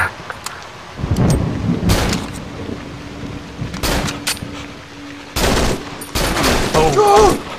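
Gunfire in the horror game Cry of Fear, with several loud, sharp bursts spaced irregularly over a steady rumbling backdrop and a voice briefly heard near the end.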